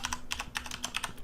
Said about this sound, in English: go to your URL and type localhost